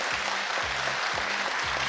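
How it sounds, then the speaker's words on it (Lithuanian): Studio audience applause on a Lithuanian TV game show, cheering on two competing couples; dense, steady clapping fills the whole stretch at an even level, with no voices over it. "Plojimais drąsinamos abi poros."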